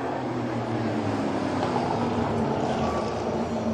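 Late model race cars accelerating off the green flag at Flamboro Speedway, a dense, continuous roar of several engines blending into one loud, steady drone with no break.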